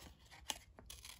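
Scissors snip out a paper banana shape in a short run of faint, close cuts, with one crisp louder snip in the middle and quieter paper rustling around it.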